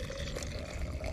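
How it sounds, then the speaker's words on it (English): Hot water at about 70 °C is poured over rinsed persimmon leaves for tea. The pour is a soft, steady, faint splashing trickle that lasts the whole moment, with no talk. "now we'll just add our hot water"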